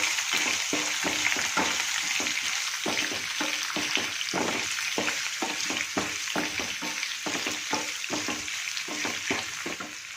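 Crushed garlic frying with moong dal in a home kitchen, a continuous close sizzle with rhythmic scraping of a spoon stirring the pan at regular beats, no voices.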